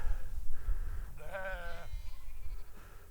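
A single sheep bleats in an open field in the hilly countryside, a wavering call of about half a second, heard at moderate distance over steady wind rumble.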